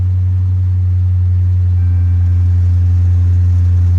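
A car bought at a cheap public auction idles steadily after starting, with a loud, close, constant low engine hum throughout.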